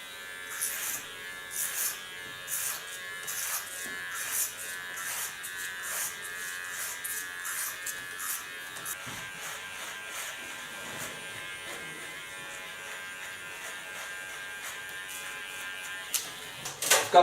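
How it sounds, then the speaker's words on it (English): Electric hair clipper cutting through a woman's very thick hair in a salon, a steady buzzing motor that strains and pulses as it works through the hair, close and continuous throughout. "you can hear she has very thick hair. Because my clipper really has to work to get through the hairs."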